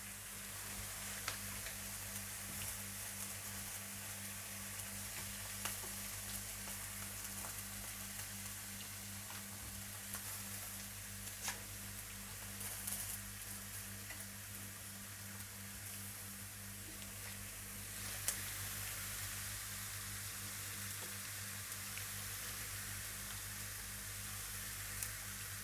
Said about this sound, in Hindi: जब कबाबों को थोड़ा सेक लग जाए तो आप इन्हें पलट कर ऊपर थोड़ा घी या तेल से ब्रश कर